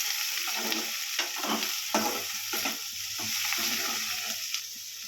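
Onions and green chillies fry in a pan with a steady sizzle, broken by repeated scraping and stirring strokes, fairly quiet and with no voices.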